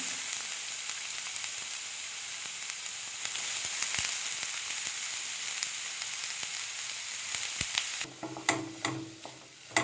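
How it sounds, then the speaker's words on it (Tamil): Grated cauliflower added to a pan with ginger paste, frying with a steady close sizzle and hiss, then a few spoon scrapes and stirring clatter near the end, with no talking. "இஞ்சி ஆட் பண்ணி நல்லா மிக்ஸ் பண்ணதுக்கு பிறகு துருவிய காலிஃப்ளவர் ஆட் பண்ணிக்கலாம்"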